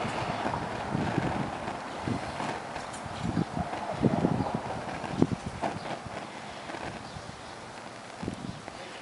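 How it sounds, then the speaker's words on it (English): Strong wind buffets the microphone outdoors, a continuous rumbling roar with gusty surges throughout. "it's wicked windy out here"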